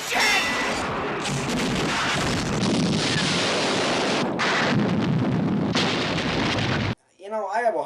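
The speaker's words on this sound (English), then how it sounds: "I have a hard time believing that this explosion was shot specifically for this film." A large explosion in a film scene, a sustained roaring blast with rumbling debris that keeps booming for several seconds before cutting off abruptly, followed by a brief voice.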